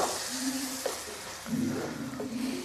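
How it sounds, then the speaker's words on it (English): Coconut milk poured into a pan of simmering mung bean curry, giving a steady sizzle and bubbling with soft stirring and a louder surge midway, close by with no talk. "I'm going to add now the coconut milk."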